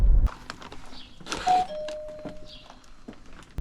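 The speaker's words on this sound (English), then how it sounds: "please make sure to knock and ring the doorbell" A front-door doorbell chimes once during a delivery, a clear electronic tone ringing out briefly against a quiet room with a few small knocks on the door and thumps around it.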